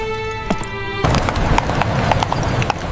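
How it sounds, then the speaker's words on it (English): Horses' hooves clatter on stone streets in foggy London as a cab sets off, a steady, brisk clip-clop that runs close and clear throughout. "The horses' hooves clattered against the stones as they hurried through the foggy streets of London"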